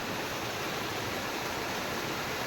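A waterfall in the rain gives a continuous, even hiss of falling water, moderately loud and unbroken, with no voices.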